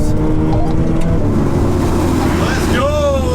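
In a drag race, a 700 bhp VW Golf R and a 700 bhp Ferrari 488 Pista accelerate hard: loud engine roar with rising, revving tones that climb sharply near the end.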